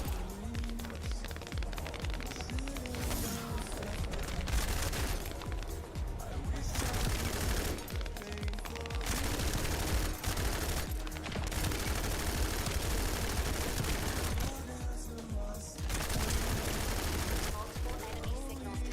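Gunfire in the video game The First Descendant comes as rapid, continuous bursts of shooting mixed into a dense, loud game soundscape, with a voice heard now and then.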